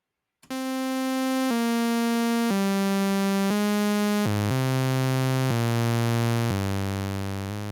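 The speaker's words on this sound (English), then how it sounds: "if you want this oscillator to play at a lower pitch, then you have to decrease the number next to octave" Sylenth1 software synthesizer with one oscillator dropped an octave: a buzzy, harmonically rich sustained tone stepping through a few held notes, then sliding lower and continuing in a deeper register, played alone.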